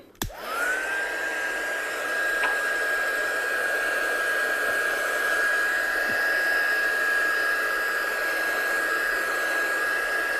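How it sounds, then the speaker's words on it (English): A heat gun blasts hot air over ink on a handmade card, switching on with a sharp rising whine that settles into a loud, steady blowing hum held for around ten seconds. "I'm just going to use my heat gun just to dry it off a little bit."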